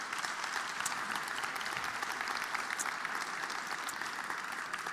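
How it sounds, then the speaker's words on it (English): Conference attendees in Berlin give a steady round of clapping for panel members, a dense, even wash of applause heard from mid-distance without any speech over it. "Let's have a warm round of applause once again for my interview partners"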